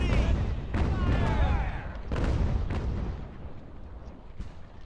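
Sailing-ship cannons fire in Ultimate Admiral: Age of Sail, several booming shots spaced a second or so apart with rolling echoes, over battle noise and faint indistinct voices.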